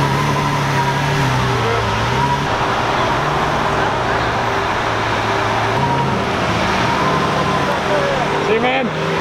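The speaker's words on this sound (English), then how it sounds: "And just like that, the Ferrari is leaving as well." A Ferrari pulls away from a valet stand at night, its engine note rising and falling amid steady traffic rumble, with chatter going on throughout.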